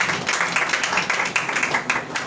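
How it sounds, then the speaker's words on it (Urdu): Applause from a gathered crowd at a religious meeting: a short burst of dense, lively clapping that holds steady for a couple of seconds at moderate volume. "زوردار تالیاں, زوردار تالیاں"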